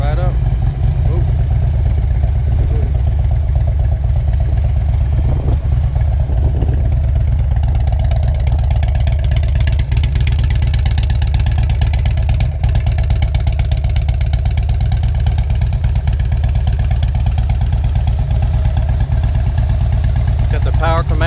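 A 2007 Harley-Davidson FLHR Road King custom bagger with a Power Commander tune cranks into a loud, steady close-up idle, its deep lumpy engine rumble filling the clip with a few throttle blips.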